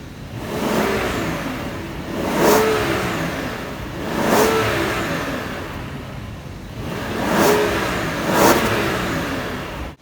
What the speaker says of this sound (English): I'll give a quick rev, sort of just to give you an idea.